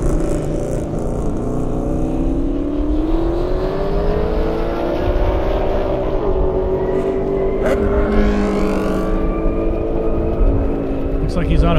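A 1,000 horsepower Fox body Mustang roars down an airstrip at a racing event, its engine note climbing steadily through a long, loud pull with a commentator talking over it.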